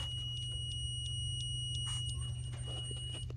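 A multimeter gives a steady, high continuity beep while injector grounds are tested on a 1999 7.3 engine with a cylinder 5 injector fault, held continuously over a low, constant hum, with no talking.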